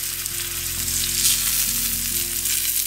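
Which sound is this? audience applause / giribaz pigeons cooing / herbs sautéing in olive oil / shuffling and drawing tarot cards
herbs sautéing in olive oil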